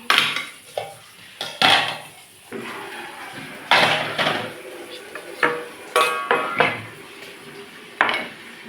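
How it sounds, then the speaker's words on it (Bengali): Metal lids come off cooking pots in a home kitchen, with a series of loud, close clanks and rattles spaced a second or so apart, with some softer scraping in between. "তারপর ঢাকনাগুলো খুলে নিই"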